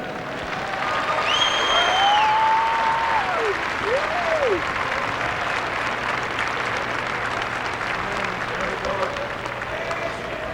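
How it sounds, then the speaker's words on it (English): Sustained crowd applause for both teams after the 1996 New Trier vs Loyola state championship game, steady and fairly distant, with a few rising and falling whistle-like tones and faint voices mixed in. "Let's have a fine round of applause for both teams on a great game."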